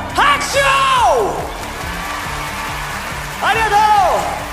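A crowd at a rock concert in Yokohama Arena cheers loudly, with two surges of high whooping voices at the start and near the end over a steady roar of audience noise.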